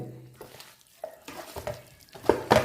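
Chicken pieces being mixed by hand with masala for a chicken dum biryani, giving soft, irregular squelching and stirring noises that are close and quiet, with a few louder strokes near the end.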